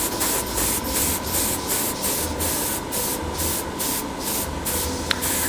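An airbrush sprays paint onto a Kotobukiya model kit in a rapid series of short, even hissing bursts. The spraying is close and steady, with no talking.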